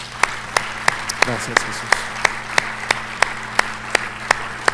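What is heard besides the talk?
congregation applause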